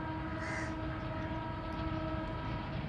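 Millat Express train approaching Mandi Bahauddin railway station, a steady rumble of wheels and rolling stock with sustained horn tones and a brief higher hoot, heard alone without talk.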